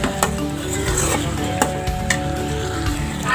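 Meat with new potato and three split chillies is stirred in a pan, giving a continuous sizzle under repeated metallic scrapes and clinks of a spoon against the pan, close and fairly loud, with no talking.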